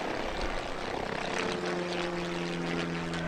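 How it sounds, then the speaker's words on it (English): A light aircraft takes off at an air-ground aerodrome: a steady propeller engine drone with a held tone, fairly loud and close, and no talking. "one aircraft just taking off"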